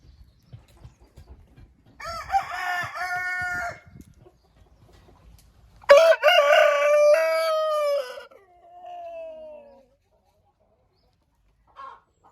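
Marans roosters crowing, two or three full crows in sequence, loud and close, with a fainter, shorter call trailing after and brief quiet gaps between.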